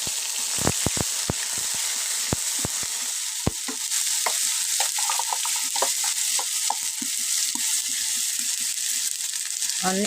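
Gourd peel paste hits hot mustard oil with dried red chillies, a few sharp clacks followed by a steady bright sizzle and intermittent stirring scrapes, close and alone.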